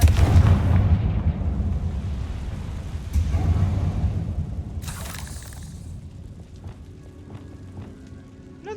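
The Confringo blasting spell in Hogwarts Legacy detonates with a heavy booming explosion, then a rumbling, crackling tail of debris that fades over several seconds, with a sharp second burst midway and a voice shouting the spell.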